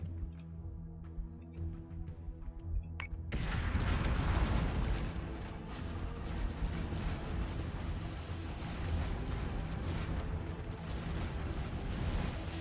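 Heavy space-combat weapons fire in Battlestar Galactica: Deadlock, a sudden loud burst of booming blasts and rumbling explosions that begins after a few quieter pops and continues densely throughout.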